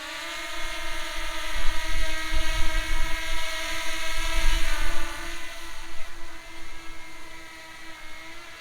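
A steady, high-pitched mechanical whine of spinning propellers hovering nearby, with stable tones and gusty low rumble swelling and fading underneath.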